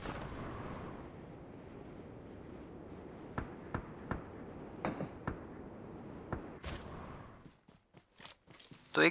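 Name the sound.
gunfire in PUBG video game on iPhone 14 Pro Max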